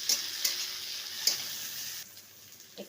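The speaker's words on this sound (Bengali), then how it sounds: "টমেটোটা একটু ভেজে নেবো" Chopped tomato frying with onion and crushed garlic in a pan, a soft sizzle broken by a few sharp stirring knocks, quiet and close.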